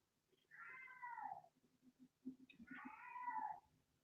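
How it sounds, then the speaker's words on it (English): An old, loud cat gives two long drawn-out meows a second apart, clear but fairly quiet, with faint low background noise between them. "is that your cat?"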